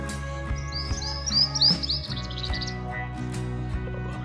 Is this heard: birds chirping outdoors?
yes